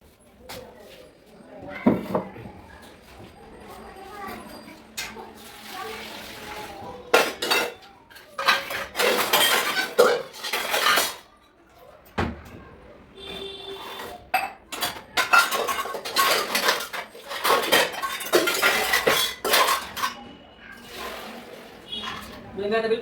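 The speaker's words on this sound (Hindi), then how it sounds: "सारे बर्तन नीचे बैठ के आराम से साफ़ करूँगी" Dishes washed by hand, with steel utensils, pots and pans clattering and clinking in irregular bursts, loud and close, while someone talks over much of it.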